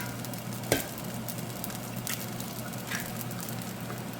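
An egg goes into a pan of frying rice noodles, giving a soft continuous sizzle with one sharp knock near the start and faint stirring scrapes, low and close with no talking.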